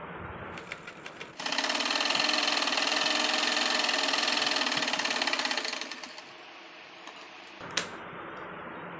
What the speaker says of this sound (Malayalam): ഈ 2 ഇഞ്ച് വീതിയിലുള്ള ക്ലോത്ത് ജസ്റ്റ് ഒന്ന് ഹാഫായിട്ട് മടക്കി അരികത്തേക്കടെ സ്റ്റിച്ച് ചെയ്ത് കൊടുക്കുന്നുണ്ട്